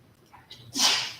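A single sharp human sneeze bursting out after a brief inhale, close and fairly loud in an indoor classroom setting.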